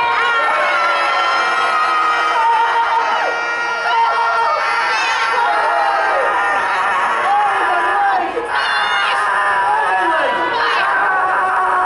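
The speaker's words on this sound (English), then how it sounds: "Yes, everyone scream." A convention audience at Trotcon 2022 screams loudly and continuously, a dense wall of many high voices yelling and cheering throughout, with individual shrieks rising above the crowd.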